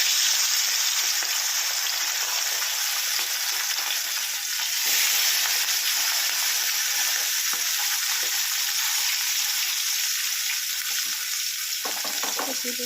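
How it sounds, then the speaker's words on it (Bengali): Pomfret fish frying in hot oil gives a loud, steady sizzle that runs unbroken throughout, with a few faint scrapes near the end and no voices. "মাছটা ভালো করে ভেজে নেব।"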